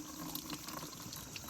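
Tap water runs into a bucket at home, a soft, continuous splashing and trickling that stays quiet and steady for the whole short stretch.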